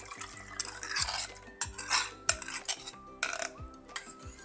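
Spoon clinking and scraping around a bowl as thick coconut cream thinned with water is mixed, a series of sharp close taps and swirls with no voices.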